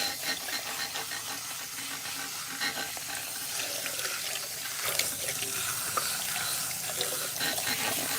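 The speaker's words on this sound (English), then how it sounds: "what we're going to do first is rinse her hair really well." At a salon sink, water rinses product out of natural hair, a continuous hissing spray with faint splashing and small knocks throughout and no voices.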